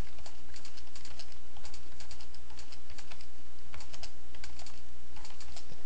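Fast, steady clicking of keys on a computer keyboard as a long password is typed, close and clear, with rapid bursts of keystrokes and short pauses over a constant low electrical hum.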